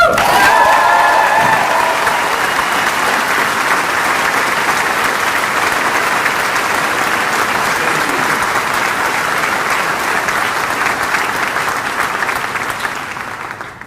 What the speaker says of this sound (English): And I ask us all to join in a loud round of applause.